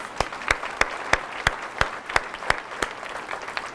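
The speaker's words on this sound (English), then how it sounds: "Let's give them a round of applause." Slow, evenly spaced claps, about a dozen sharp hits at a steady rhythm, from a small group applauding new college faculty and staff at an in-service day, fairly close and moderately loud with no one talking.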